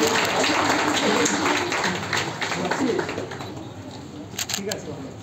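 An audience claps steadily and densely at a madrasa board exam felicitation ceremony in Murshidabad, with voices underneath; the applause gradually thins out toward the end.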